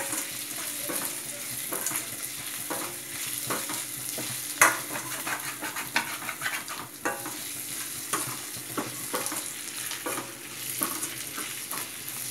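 Onions fry in a pan for Hyderabadi-style mutton curry, a steady close sizzle punctuated by repeated scraping strokes of a spatula being stirred through them, with one louder clack midway.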